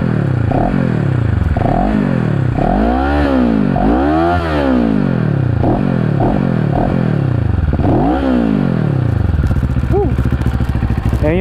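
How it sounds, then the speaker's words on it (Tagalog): Bristol Bobber 700 motorcycle with its stock exhaust revs up and down repeatedly, each loud, close rev rising and falling in pitch, about eight in a row, before the engine settles to idle and shuts off. "Ayan yung tunog ng Bobber 700."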